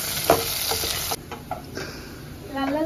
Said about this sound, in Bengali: লাল লাল করে আলু ভেজে নিয়েছি